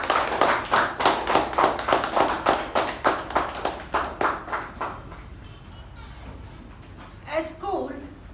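A Toastmasters meeting audience claps in a steady rhythm to welcome the Toastmaster, loud and even for about five seconds before fading into room quiet, then a short voice near the end.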